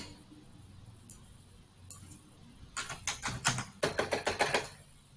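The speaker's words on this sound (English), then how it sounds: "really struggling with my typing skills" Quiet room with a few isolated key clicks, then a quick burst of rapid keyboard typing, clattery taps close by.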